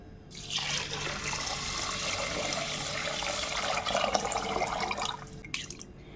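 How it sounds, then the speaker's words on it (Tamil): Water pours steadily and fairly loudly into a vessel of washed black kavuni rice set to soak, a continuous splashing stream lasting several seconds before stopping, with no talk. "இப்போ இதுக்கு நம்ம தண்ணி ஊற்றி ஊற வச்சுக்கலாம்"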